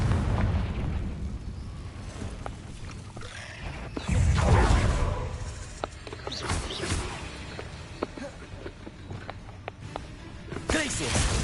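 The Confringo explosion spell in the video game Hogwarts Legacy bursts into a deep, loud blast that rumbles and fades, followed by scattered sharp pops and crackles over a continuous low battle din.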